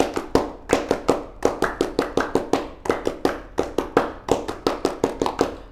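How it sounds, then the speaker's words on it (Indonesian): A group performs the Indonesian scout rhythmic clap (tepuk pramuka): sharp, loud hand claps in a quick patterned rhythm, repeated in two rounds, with no talking. "Ya, 2 kali tepuk pramuka."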